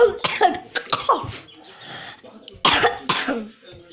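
Several harsh coughs come in bursts close to the mic, separated by short pauses and throaty breaths.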